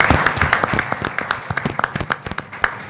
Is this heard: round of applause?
yes